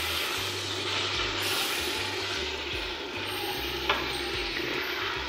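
Jamaican curry chicken sizzling in hot oil in a pot, a steady close frying hiss with scraping stirring sounds and a brief clink near the end, no speech.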